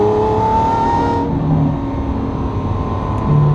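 Inside the cabin of a Gintani supercar, the engine drones loud and steady, with a rising whine early on and a constant rumble throughout, no voices.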